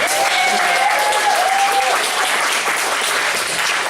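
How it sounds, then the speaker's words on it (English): A live audience applauds steadily at an event, a dense continuous wash of clapping filling the whole stretch, with a faint tonal voice or feedback wavering over the first two seconds. "Let's give a round of applause to Jonathan Ramsden."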